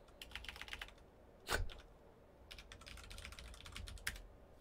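A password is typed on a computer keyboard in short bursts of quiet, close key clicks, with a couple of sharper heavier taps between the runs.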